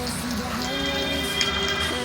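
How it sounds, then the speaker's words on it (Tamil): Steady rainfall pouring down outdoors in Theni, a dense, even hiss of drops pattering on surfaces and pooling water, continuous and fairly close for the whole stretch. "இப்பயும் சரியான மழை காய்ஸ்"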